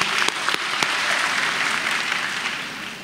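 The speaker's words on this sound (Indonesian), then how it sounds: "Tepuk tangan untuk kita semua untuk Bapak Erick Thohir." A crowd applauds for Erick Thohir, with a few sharp individual claps at the start swelling into loud, sustained, dense clapping that holds steady throughout.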